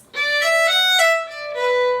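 Solo fiddle plays a short jig figure of four slurred eighth notes followed by two separately bowed eighth notes, bright and close, with no talking.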